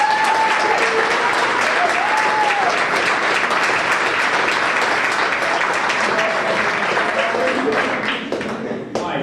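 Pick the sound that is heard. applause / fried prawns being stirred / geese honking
applause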